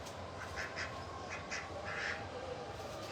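Ducks quack several times in short bursts at a moderate distance, fairly faint against a constant low outdoor rumble, with no speech.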